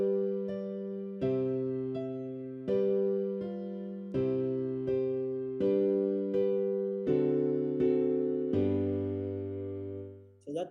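A simple synthesized melody of Twinkle Twinkle Little Star plays note by note in a steady rhythm over sustained low bass notes, clean and unaccompanied by voices.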